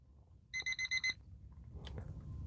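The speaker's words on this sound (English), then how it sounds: "I just heard the alarm just now." Alarm sounding in five quick electronic beeps in a tight burst, moderately loud and clear over low room noise, followed by a faint rustle.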